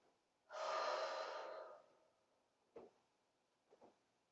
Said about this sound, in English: Take a couple of breaths right here.